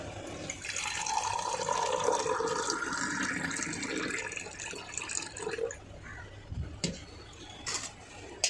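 Freshly made tea being poured into a cup, a steady close liquid stream for several seconds that thins out, followed by a few drips and a light clink.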